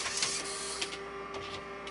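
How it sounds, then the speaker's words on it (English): Mechanical whirring and scratchy clicking of a Macintosh floppy drive with a replaced eject gear, pushing out a disk; faint, close, and alone. "This floppy drive here has had its eject gear replaced, so it sounds a little scratchy on the eject"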